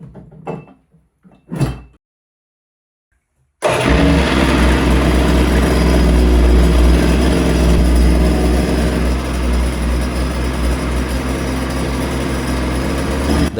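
A $50 three-cylinder Volvo Penta engine idles steadily with its cover on, a loud continuous low rumble that kicks in after a few seconds of faint knocks and silence.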